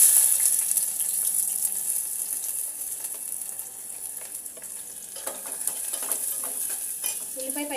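Onion and green chillies fry and get stirred in a pan for an egg curry, a steady sizzle with scraping strokes of the spoon throughout, close and moderately loud, with no one speaking.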